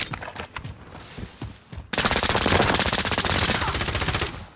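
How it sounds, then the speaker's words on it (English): Gunfire from the video game Call of Duty: Modern Warfare, first a few scattered shots, then a loud sustained burst of rapid automatic fire that continues to the end. "Stop shooting at me!"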